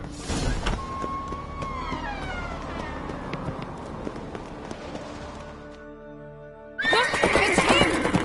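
A horse in a video game whinnies loudly with a rising, wavering call over busy background noise, followed by a sudden burst of rushing, clattering sound.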